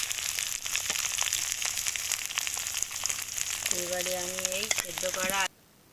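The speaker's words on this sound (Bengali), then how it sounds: "এই যে কাঁচা লঙ্কা কুচিটা আমি দিয়ে দিলাম" Chopped green chilies sizzle in hot oil in a pan for a village-style potato dal, a steady dense crackle with stirring clicks, a brief whistling tone near the end, then sudden quiet.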